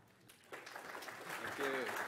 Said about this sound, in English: Round of applause for Troy.